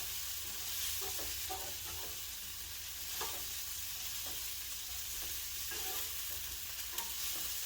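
Garlic and tomatoes sear in a pan for an open-faced ricotta and tomato sandwich, a steady close hiss of frying broken by occasional soft stirring scrapes.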